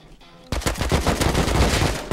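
Rapid gunfire bursts in a video game raid, loud and close, a dense run of shots after a brief quiet lead-in.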